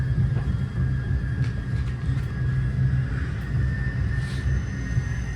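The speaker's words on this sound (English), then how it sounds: "Here we are pulling into the Menlo Park Station." A southbound limited-stop Caltrain train pulls into Menlo Park Station, heard from on board as a steady, loud low rumble with a faint high whine running throughout.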